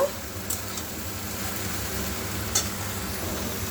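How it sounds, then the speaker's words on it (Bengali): Water lily stems stirred and frying with a little turmeric in a pan, giving a steady low sizzle with occasional soft scrapes of the spoon, close and continuous. "দিয়ে দেব অল্প পরিমাণ হলুদ সামান্য পরিমাণ একটু হলুদ দিয়ে দিলাম দিয়ে একটু নাড়াচড়া করে ভেজে নেব"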